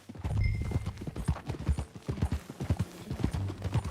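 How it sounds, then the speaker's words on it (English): Rhythmic clip-clop of a horse's hooves close by in the game Red Dead Redemption 2, steady and fairly loud, with a brief whinny-like tone early on. "That a new horse?"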